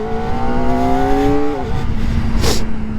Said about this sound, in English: this thing sounds kind of okay for being stock exhaust.